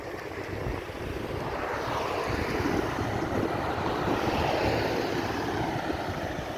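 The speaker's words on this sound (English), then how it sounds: "Our airport, the Grantley Adams International Airport." An aircraft at Grantley Adams International Airport in Barbados gives a steady, broad rushing roar that swells slightly and holds throughout, with a windy texture.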